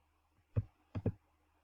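Three mouse clicks on a glossary word in an on-screen read-aloud book, one sharp click followed by a quick double click, close and isolated against a quiet background.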